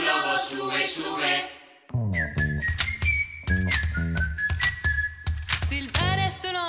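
Melodic whistling in a stage musical, clear sustained notes in a tune, close and prominent over a sung and instrumental backing.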